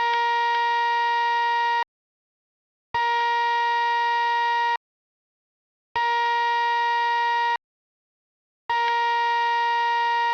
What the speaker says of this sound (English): that high-pitched whine you can hear in the track is just the Gonkulator being turned on and off in time with the music